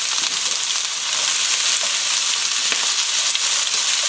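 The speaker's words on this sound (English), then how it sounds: "We place in the stir fry." Stir fry sizzling in hot oil in a wok for Chinese takeaway-style crispy chilli beef with noodles, a loud, steady hiss and crackle with occasional sharper spits, close up and without speech.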